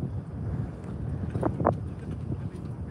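Seaside wind buffets the microphone with a low, steady rumble and gusty roar, broken by a couple of brief higher swells in the middle.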